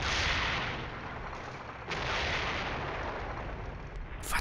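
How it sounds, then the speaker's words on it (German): Artillery fire in the wargame Flashpoint Campaigns: a dense, rumbling barrage with sharp cracks of individual shots breaking through, steady and fairly loud throughout, with no voices. "Warum schießt unsere Artillerie dahin?"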